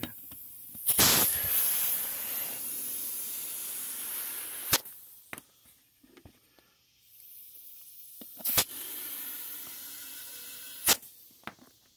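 Air hissing in bursts while a tube inside a lawn mower tire is inflated; sharp, loud hiss blasts recur at intervals between quieter stretches, with no talking.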